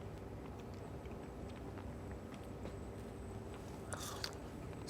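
Quiet, close crunching and chewing of star fruit (carambola), repeated moist bites with a few sharper crisp snaps near the end.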